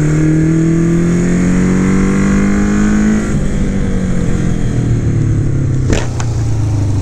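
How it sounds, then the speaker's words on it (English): A 1974 Honda CB550 Four, an inline-four motorcycle with synced carburetors, revs high and steady, then the pitch drops as it eases off, followed by a sharp click and lower idle. "there's nothing more beautiful than an inline four with all the carburetors synced just perfectly"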